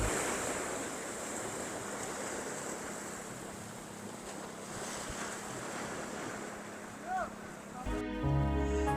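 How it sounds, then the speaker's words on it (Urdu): Sea waves breaking along the coast by the white cliffs of Gadani, Balochistan, a faint continuous wash with wind noise, ending in a brief burst of louder music. "ان سفید پہاڑوں کے ساتھ سمندر کی ٹکراتی لہروں کا نظارہ نہایت حسین"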